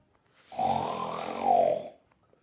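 A single loud snore in Minecraft, a rough, rumbling inhale of about a second and a half, rising toward the end, alone against silence.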